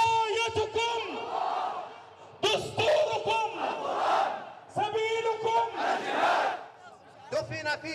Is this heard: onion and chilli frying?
no